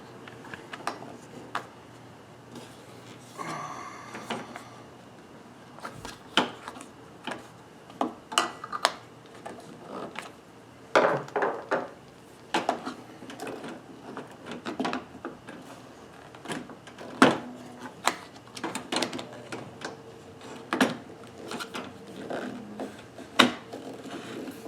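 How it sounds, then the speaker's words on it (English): A pry tool working a plastic cover off a wiper arm on an S10, making scattered close clicks, taps and small plastic snaps over a quiet background, irregular and fairly faint. "That pry tool works better than the screwdriver."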